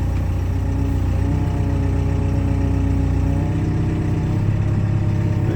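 An old Caterpillar crawler's diesel engine runs loud and close while the machine backs out, a steady low rumble with a slight shift in tone partway through.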